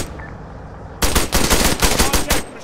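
Machine gun fire from the video game Arma 3 bursts in loud and near after a quiet second, a rapid sustained volley that stops shortly before the end.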